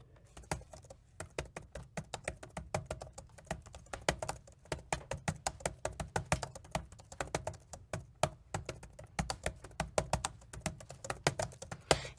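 Fast, continuous typing on a large gaming laptop keyboard with big keycaps, a dense patter of close, light clicks for about twelve seconds with no talking.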